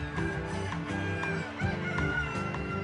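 A flock of domestic chickens at a poultry show clucks and murmurs in a dense, continuous chorus, with scattered sharper calls rising over the steady background din.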